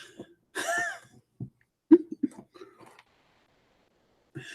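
A few short, sharp coughs with a throat-clearing sound, close by, separated by brief pauses in an otherwise quiet room.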